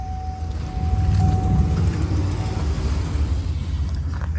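A car engine idles with a steady low rumble, close and alone, after being jump-started with a JFEGWO F40 jump starter, with no talk over it; no clear stall is apparent.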